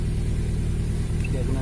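A 2003 Toyota Altis engine, which has a fault where it runs only briefly after starting and then dies, hums in a steady, close, low idle throughout.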